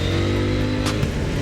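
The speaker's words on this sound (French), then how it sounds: "je prends le virage, je réaccélère, ça repart." A KTM Duke 890R motorcycle accelerating hard out of a bend, its engine roaring loud and close with a steady rising drone throughout.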